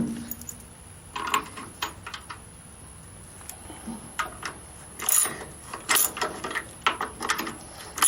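A ratchet works on suspension bolts of a rotten old 1956 chop-top oval-window VW Beetle being fitted with Porsche suspension, giving scattered clicking strokes in irregular bursts against a quiet workshop background.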